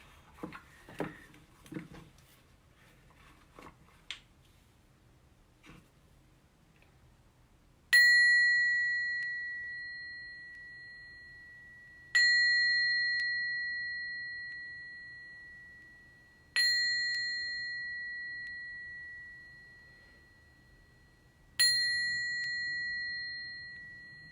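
A small bell rung at the close of a hatha yoga class, four clear bright strikes spaced several seconds apart, each ringing out and slowly decaying in a quiet room after some faint soft sounds at the start.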